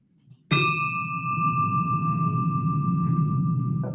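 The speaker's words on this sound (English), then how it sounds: "Get this thing kicked off officially, and I'll ring the bell." A Rotary club meeting bell played from a computer rings once sharply, then hangs as a steady pure tone that sustains evenly for several seconds over a low background hum.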